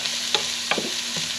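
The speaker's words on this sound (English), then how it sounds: "we're probably going to saute this for like 2 to 3 minutes" Food for baked ziti sautés in a pan with a steady, close sizzle and a few light scrapes and clinks of stirring over it.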